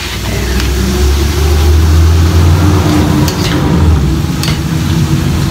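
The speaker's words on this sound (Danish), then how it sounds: "I kan høre bilerne derude." Cars pass on a street outside an open window, a continuous near engine rush that swells and fades across the few seconds, fairly loud, with no voices over it.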